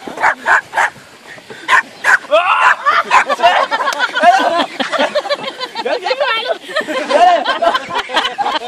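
A small dog yips and barks repeatedly on a beach at Marielyst, sharp bursts at first, then excited whimpering and yapping mixed with nearby family voices talking.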